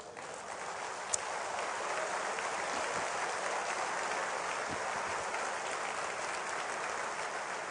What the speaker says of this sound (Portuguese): Por isso, ele vai receber o nosso aplauso agora